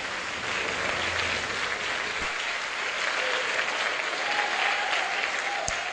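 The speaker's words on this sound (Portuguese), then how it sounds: "Vamos aplaudir ao Senhor Jesus" A church congregation claps together in steady, sustained applause that fills the room, dense and even throughout with no voices rising above it.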